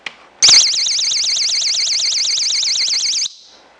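A homemade car trunk alarm goes off as the trunk opens, after a small click. It gives a loud, piercing warbling siren that wavers rapidly and steadily for about three seconds before cutting off abruptly, with no voices.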